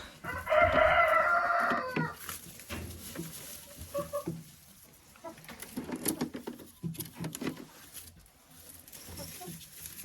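A rooster crows once, loud and near, among laying hens in a backyard farm coop, followed by scattered clucking, pecking and rustling patter.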